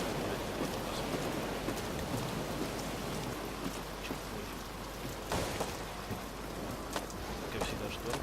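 A storm in the BioShock Infinite video game brings steady heavy rain with low rolling thunder and occasional sharper crackles, loud and continuous, while a voice speaks briefly over it.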